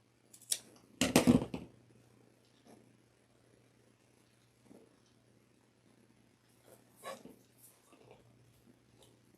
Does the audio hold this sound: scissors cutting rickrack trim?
yes